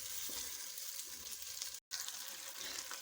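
Fish sizzling as it is fried in a spice masala in a pan, a steady close frying hiss throughout with one brief cut to silence partway.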